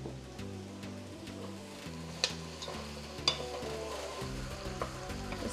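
Carrots and onion cooking in a soup pot for cabbage soup make a faint, low sizzle, with a few light clicks and taps over a quiet, even background.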